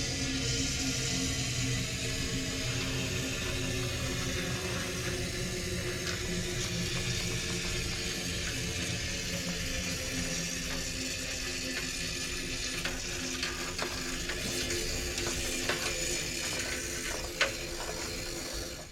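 Rustproofing coating sprayed inside the frame of a 1959 Chevrolet Bel Air, a steady close hiss of aerosol spray running continuously for the whole stretch with faint mechanical clicks near the end.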